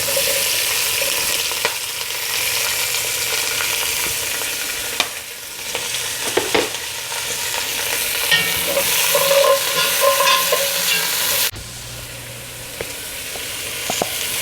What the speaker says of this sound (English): I'm going to saute the onions first